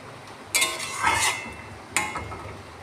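Raw onions stirred in a pan for a prawn and taro stolon dish, two bursts of scraping and clattering from a spatula against metal, close and fairly loud, with a quiet gap between them.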